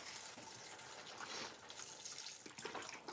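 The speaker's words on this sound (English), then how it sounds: "And the last step was to add the chicken broth" A full quart carton of chicken broth poured into a pot of taco soup, a steady close gushing, splashing liquid stream running unbroken throughout, no talking.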